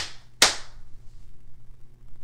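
A single sharp hand clap during a kindergarten music lesson demonstration, close and crisp with a short decay into a quiet room.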